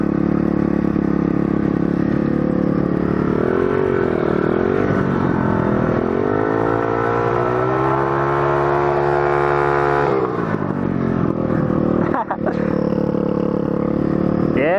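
A mini dirt bike riding around a park, its small engine droning loudly and continuously close by, rising and falling in pitch as it revs, with a brief dip and clatter near the end.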